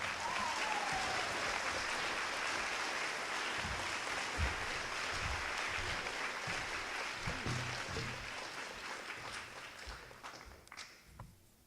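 Sustained applause from an audience at a 2014 high school senior awards ceremony for scholar athletes, dense and steady before tapering off near the end, with a few faint voices underneath.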